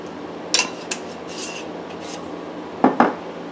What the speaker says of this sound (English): just sprinkle some of this homemade ranch on it